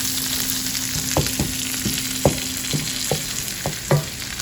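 Longaniza sausage frying on a hot comal gives a steady close sizzle, broken by about eight sharp clicks and scrapes from turning or stirring, with no talking.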